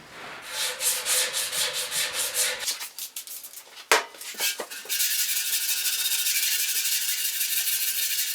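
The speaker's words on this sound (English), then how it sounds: "I take some 150 grit, just a light pad, and then just go over it." Hand sanding with a light pad of 150 grit sandpaper over the bodywork of a 1974 Yamaha RS 100 motorcycle tank, first in rhythmic back-and-forth strokes, then a few scattered rubs before steady continuous hissing friction, close and alone.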